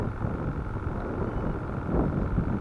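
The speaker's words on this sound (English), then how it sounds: "The wind picked up just that quick." Wind gusts over a lake around a fishing boat, a low buffeting rumble against the microphone that swells slightly toward the end, with no talk.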